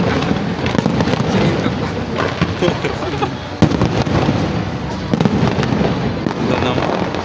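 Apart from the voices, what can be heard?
fireworks display at a pyro exhibition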